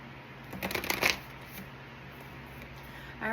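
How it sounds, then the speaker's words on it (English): Tarot cards shuffle close by in a short riffling burst of crisp papery flutters lasting about a second, then quiet room tone with a faint tail of card handling, without speech. "I'm shuffling good here while you do that."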